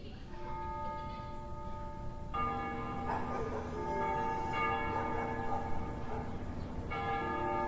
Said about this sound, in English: They ring the bells here at dusk to honor the liberation of the capital.